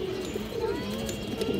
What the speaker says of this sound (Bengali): বাঘা কবুতর, মাশাআল্লাহ পুরান লাইনের কবুতর দেখেন আপনারা